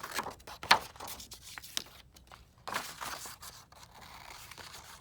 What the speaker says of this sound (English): you're going to use the scissors to cut out that pattern of whatever you draw